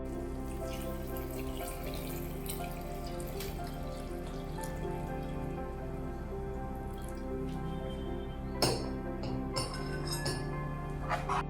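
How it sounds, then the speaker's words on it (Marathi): Hot water going into a cooking pot while making misal rassa, a steady trickling and splashing flow with occasional sharper drips and clinks near the end, close and moderately quiet, without talk. "पाणी गरम झालंय आता आपण त्याच्यामध्ये घालूया पाणी"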